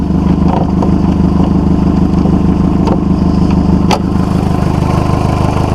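A Volkswagen Golf 4 engine runs at a steady, even idle close by, with a constant low drone throughout and a few faint clicks over it.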